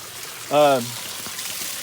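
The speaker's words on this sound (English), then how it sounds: "Here's the waterfall shooting down the hill." Garden waterfall tumbling down a hillside, a steady soft rush of water running throughout, briefly overlaid by a short tonal voice-like call near the start.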